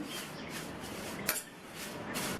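Drumstick leaves dry-roasting over medium heat in a pan, a soft continuous rustling crackle with recurring light scraping stir strokes, close and fairly quiet.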